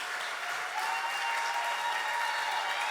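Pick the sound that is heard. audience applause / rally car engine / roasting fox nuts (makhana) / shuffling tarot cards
audience applause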